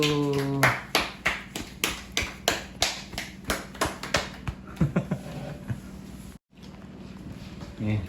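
At a church Bible-doctrine camp, a group claps in a brisk, regular rhythm of many sharp claps for several seconds, then thins into scattered taps and background voices, with a brief dropout near the end.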